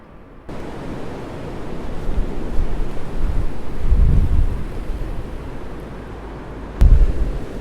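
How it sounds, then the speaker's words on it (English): Gusty wind the day after a storm in Cumbria, blowing as a broad, steady roar that swells around the middle and ends with a sharp buffeting blast against the microphone. "Apart from the odd gust that keeps blasting through."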